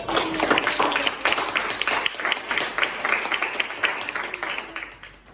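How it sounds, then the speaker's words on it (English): A small classroom group claps, individual hand claps standing out in a brisk uneven patter that tapers off toward the end, with a voice or two mixed in. "Give applause, Bonnie."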